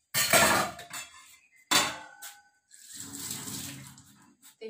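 Dishes, pots and pans being washed in a rural Punjabi home kitchen: sharp metallic clatters and scrapes of utensils in bursts, then a steadier wash of running water with clinking, close and alone.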